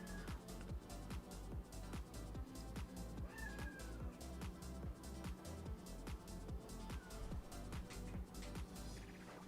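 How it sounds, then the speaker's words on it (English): A house cat meows repeatedly at close range during a fit of meowing, the calls rising and falling over a busy, rhythmic music bed that stays constant throughout. "now he's going through one of his meowing fits."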